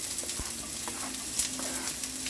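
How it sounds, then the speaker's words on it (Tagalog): Garlic sautéing in hot oil in a pan for pakbet, a steady close sizzle with scattered crackles and a few light stirring scrapes. "Ayan po, ginigisa na yung bawang."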